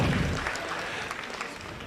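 Audience clapping at a Tahitian fete live music event, a scattered round of hands that is strongest at the start and thins out into lighter, sparser claps, with a low thump at the outset.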